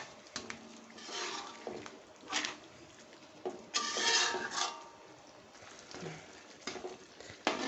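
Stingray sambal being stirred in a pan, with soft scraping and rubbing strokes coming in irregular bursts, close but quiet.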